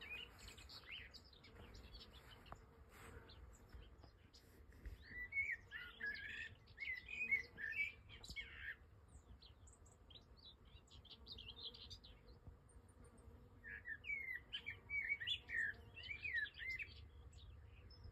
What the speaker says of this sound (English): So the scratchy thing I think is a white throat, common white throat.